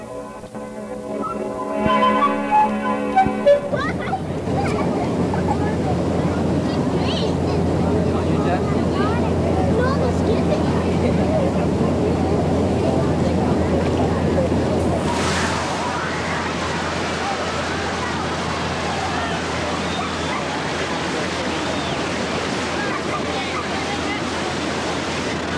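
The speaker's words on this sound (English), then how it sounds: "Contraptions in all shapes and sizes rush into the water at the sound of the starting" Homemade raft contraptions of all shapes and sizes rush into river water at a race start, a broad roaring wash of splashing and churning water with wind noise and a crowd murmuring under it.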